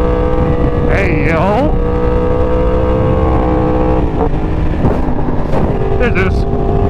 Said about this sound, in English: And here's LA traffic.